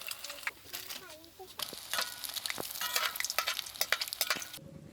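Duck eggs fry in a pan of hot oil, sizzling and crackling with a spatula stirring and scraping, the frying growing louder and more spattery toward the end.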